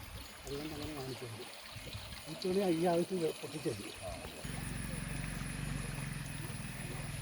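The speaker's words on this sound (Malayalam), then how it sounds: "നമ്മുടെ സ്ഥലത്തിൻ്റെ നടുവിലൂടെ ഒഴുകുന്ന തോട് ഇതാണ് വറ്റാത്ത വെള്ളമാണ്" A year-round stream running through a three-acre plot near a forest edge gives a soft, steady trickle of flowing water, faint and low, with people talking over it for the first few seconds.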